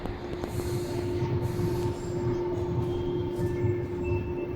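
Subway metro train running, a steady loud rumble with a sustained tonal hum and a faint high squeal throughout, no voices.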